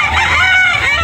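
A backyard rooster at a Carbon market in Cebu crows loudly and close, one sustained call over a constant murmur of market noise.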